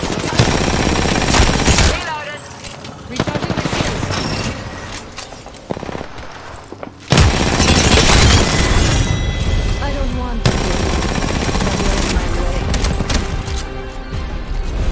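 Rapid automatic gunfire and booming shots in the battle royale game Apex Legends, loud and dense bursts with brief lulls, the volleys overlapping through most of the stretch.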